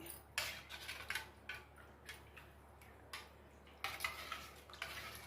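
Metal spoon stirring turmeric into a masala buttermilk curry in a pot, giving repeated scraping and clinking strokes in a steady rhythm, close and fairly quiet with no talk.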